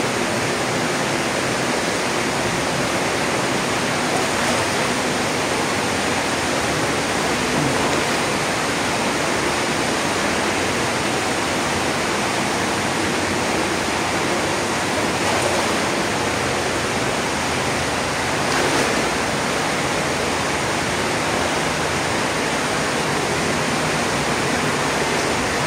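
Heavy river water rushes steadily past a flooded riverbank tunnel, a dense, constant roar close by with no pauses or voices for the full length.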